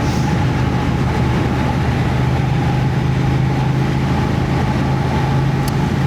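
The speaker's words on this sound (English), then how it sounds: "It makes the bike feel so much more alive. It's got a tone to it" Triumph Thruxton motorcycle engine running steadily throughout, a continuous low droning hum with a steady mid tone riding on top, close and fairly loud with no talk.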